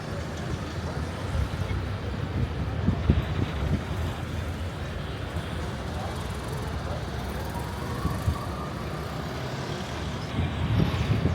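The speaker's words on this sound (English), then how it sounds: "Yeah, very busy street." Busy street in Guatemala City with a steady dense roar of cars, trucks and buses passing close by, continuous traffic noise throughout with occasional louder vehicle surges.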